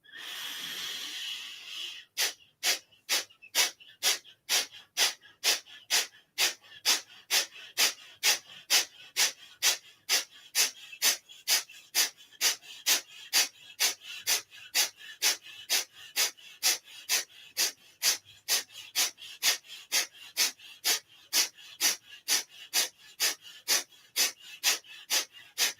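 Rapid rhythmic yoga breathing, dozens of sharp forceful exhalations through the nose in a steady even pulse, close and clear, following a single long inhale at the start.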